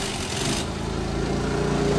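Honda Activa scooter engine running noisily after a repair, a steady close rough buzzing drone throughout with no talking.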